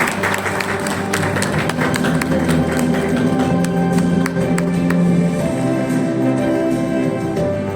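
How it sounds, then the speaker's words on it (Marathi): Applause for honoured guests at a gathering of MS-CIT computer centres in Satara district, a steady roomful of clapping hands holding loud and continuous throughout with no voices over it. "एकदा जोरदार टाळ्या फुसपे सर व मॅडम यांच्यासाठी"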